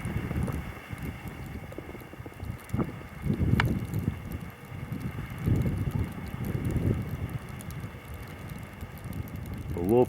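Strong north wind blows around a small homemade wind turbine on a winter day, a steady rumbling gusting roar with low buffeting against the microphone, surging and easing throughout, along with faint rustling and knocking.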